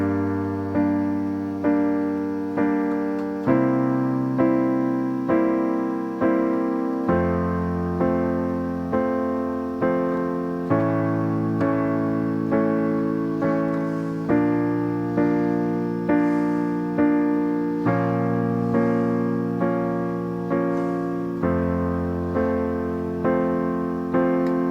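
Piano accompaniment for a song: steady right-hand chords struck on every beat over sustained low bass notes, a clear even pulse throughout, close and alone with no voice.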